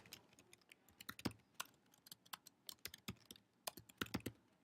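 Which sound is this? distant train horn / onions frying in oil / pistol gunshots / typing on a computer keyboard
typing on a computer keyboard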